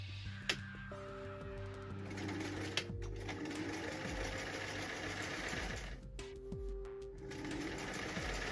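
A sewing machine stitches the seams of a silk Regency men's coat, a quiet continuous whirring with a rhythmic mechanical chatter, occasional faint clicks and brief changes in pace, heard close but low in level.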